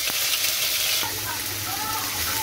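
Steady sizzling of ginger garlic paste frying in hot oil, a continuous crackling hiss with faint stirring sounds.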